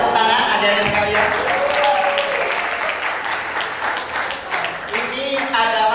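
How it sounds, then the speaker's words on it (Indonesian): A crowd of students claps warmly at a school Ramadan religious gathering in Indonesia, sustained and loud, with someone talking over the applause and a hall echo behind. "Boleh tepuk tangan adik-adik sekalian"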